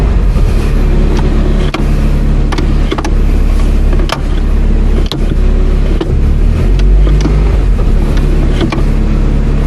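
A 1997 Toyota Corolla idling with a steady low rumble as it is shifted through park, reverse, neutral and drive, with faint clunks at each gear change.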